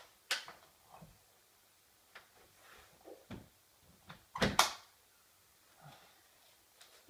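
A loose cupboard door that has come off its hinges is handled indoors, giving scattered faint knocks, clicks and one louder clattering bump amid quiet room tone.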